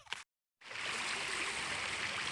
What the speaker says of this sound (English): Got the fast moving water coming over the log, slowing down and dropping off here, creating an eddy behind it